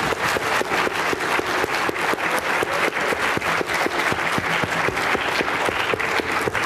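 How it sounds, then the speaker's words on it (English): A conference audience at the 2013 ASOR Annual Meeting plenary applauds ASOR president Tim Harrison, dense, sustained clapping from many hands that stays loud and even from start to finish. "I will ask you to give him a round of applause for that"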